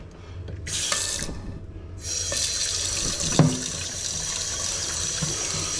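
Tap water runs steadily into a kitchen sink while an oily pan that held salmon is rinsed, with bursts of rushing flow and a brief clank of the pan partway through.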